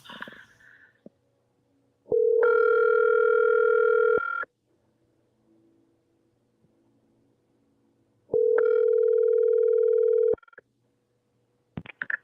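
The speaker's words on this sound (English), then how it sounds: "I'm going to let you hear the phone call where I called him." Ringback tone on a recorded outgoing phone call to a police department: two long, steady electronic rings about two seconds each, separated by several seconds of near silence, with faint line noise around them.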